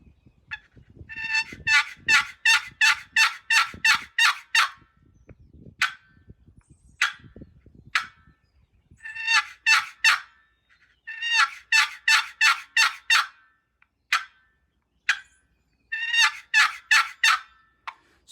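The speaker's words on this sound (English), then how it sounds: "When you're running a box call, this paddle, this lid, never leaves that body." A wooden turkey box call, its paddle lid kept on the body, is worked in sharp sequences of rapid yelps, close and clear, with short single notes and pauses between runs.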